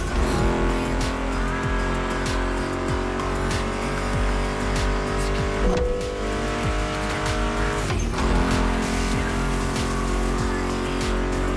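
Racing car engines from The Crew Motor Fest video game roar steadily under a loud music soundtrack, with tire squeals and passing revs mixed throughout.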